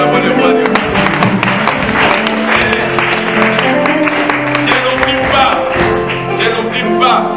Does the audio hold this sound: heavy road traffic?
no